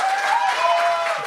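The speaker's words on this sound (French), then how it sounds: "On peut l'applaudir" Comedy-show audience clapping for a stand-up comedian, a brief, steady burst of applause with a bright tonal hum running through it.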